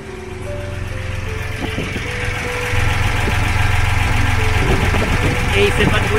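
A boat engine runs at a low, steady idle nearby, its rumble stepping up a little louder partway through and continuing evenly.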